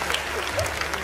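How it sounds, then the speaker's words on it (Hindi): Audience clapping at a Hindi comedy poetry recital, a steady dense patter of applause from the crowd filling the room for about a second, with no voices standing out above it. "और अब आपकी तालियां उठेंगी,"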